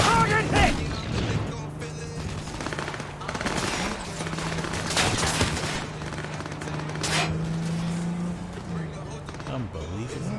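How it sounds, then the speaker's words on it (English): Gunfire in the Cyberpunk 2077 game rings out in repeated bursts over a steady engine-like hum and other game noise, with a voice talking over parts of it. "Why are you firing at me?"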